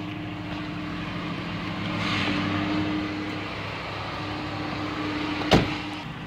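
A Ford vehicle's engine idles just after a cold start, a steady low drone heard alone at moderate level, swelling slightly midway, with one sharp click or knock near the end.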